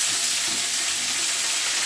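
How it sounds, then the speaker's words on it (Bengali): Vegetables fry in a pan with a dense, steady hissing sizzle, close and even in level across the short stretch, with no voices. "সবজি দিয়ে ভালো করে ভেজে নেবে।"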